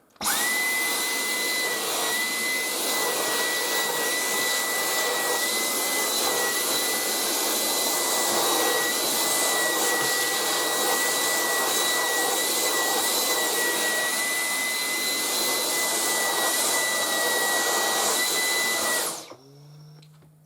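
A Dyson V10 cordless vacuum cleaner running at max power with the crevice tool fitted, giving a loud, steady high-pitched whine with a constant tone for about nineteen seconds, then cutting off abruptly.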